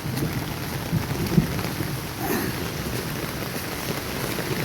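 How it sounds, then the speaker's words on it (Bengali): Steady rain hisses throughout, with a faint low rumble of thunder in the distance partway through. "অনেক অনেক অনেক বজ্রপাত হচ্ছে"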